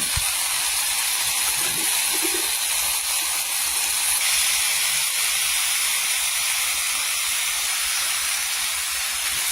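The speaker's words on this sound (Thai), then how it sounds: "ผัดให้เข้ากันค่ะ" Kaffir lime leaves and seasoned stir-fry ingredients sizzle in a hot pan, a steady broadband hiss of frying holding level and fairly loud throughout with no voices over it.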